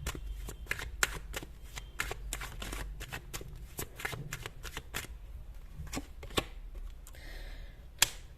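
Tarot cards being shuffled up close, a quick run of crisp papery flicks and taps in an irregular rhythm, fairly quiet with a brief soft rustle near the end.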